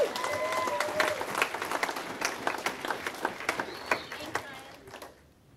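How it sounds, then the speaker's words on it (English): Wedding guests applaud the bridal party at a reception toast, a fairly dense round of clapping that thins into scattered claps before stopping abruptly, with bits of crowd noise mixed in. "Can we get a round of applause for all of them?"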